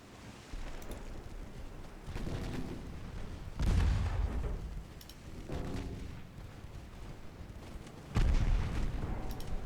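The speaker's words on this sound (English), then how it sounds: "Now they're firing the torpedoes." Torpedoes and naval guns firing in a naval warfare video game, several muffled booms and bursts rising out of a low background rumble at irregular intervals, fairly faint overall with no talking.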